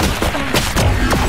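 Rapid gunfire from Valorant, several sharp close shots cracking in a quick uneven burst over a dense game background.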